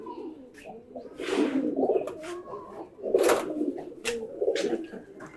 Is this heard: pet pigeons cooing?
yes